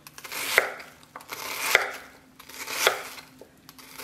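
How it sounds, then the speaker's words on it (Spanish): A knife chops an onion into large cubes on a cutting board, giving three crisp, evenly spaced thuds close up with soft scraping between them. "Voy a partir este pedacito de cebolla, pero no voy a partir los pedazos tan chiquitos."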